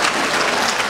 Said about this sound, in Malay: Tepukan kepada beliau juga